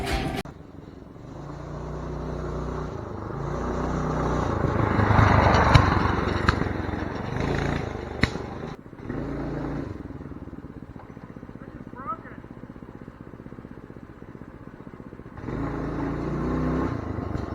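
A homemade, budget-built wheelie trike idles and revs, its engine swelling to a louder rumble before easing back to a steady putter; people talk over it throughout.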